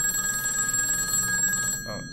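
Telephone ringing in a steady, continuous electronic trill, fairly loud and close, cutting off near the end.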